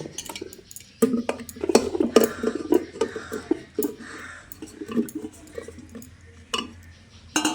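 Potato pieces and jackfruit chunks are dropped into a metal pressure cooker in a home kitchen. Sharp clinks and clunks arrive in irregular bursts, close and fairly loud, with quiet pauses between them.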